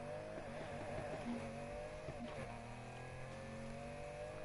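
A Lamborghini Countach driven hard in the racing game Need for Speed Heat, its engine note droning steadily and close with rising revs and a brief tire-squeal edge, with no voices over it.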